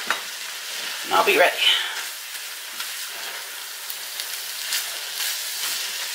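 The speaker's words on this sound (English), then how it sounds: "Give it a good stir." Taco meat in a frying pan sizzles steadily, with a louder burst of scraping and hissing early as it gets a good stir, while a voice speaks briefly.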